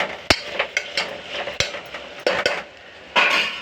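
Ivy gourd and chana dal frying in oil with onion and chilli, a steady low sizzle broken by sharp clinks and scrapes of a spoon stirring against the pan, close and fairly loud with no talk.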